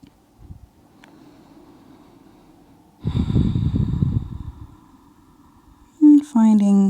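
A loud, breathy yoga exhale during a hinge into a forward fold, a rough whooshing breath of about a second, with a brief voice sounding afterward.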